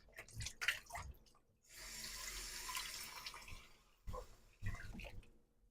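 Pomegranate rinsed under a running kitchen tap, a soft steady water stream broken by short splashy bursts and brief pauses, quiet and close, with no talk.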